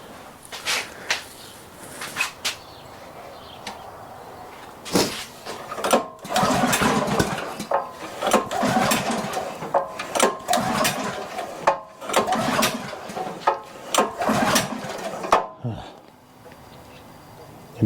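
A gasoline pressure washer engine is pull-started, with repeated sharp cranking pulls and sputtering bursts. It never settles into a steady run, and voices talk over parts of it.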